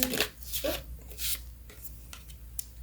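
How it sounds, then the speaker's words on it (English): A few quick papery riffles and soft rubbing sounds, like cards being shuffled close by, in short bursts with quiet gaps between. "Let's shuffle one more time."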